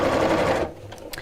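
A sewing machine runs steadily as it stitches through thick fabric with wadding inside, a dense, continuous mechanical whir for most of the moment before it stops abruptly and leaves near quiet.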